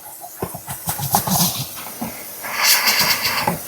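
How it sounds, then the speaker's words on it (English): Hissing steam from a Chief steamer vacuum aimed at stubborn buildup, a broad close hiss that swells and fades with rustling and small knocks, no talking. "You can literally point the steam in that area to remove any type of buildup, anything that could be stubborn."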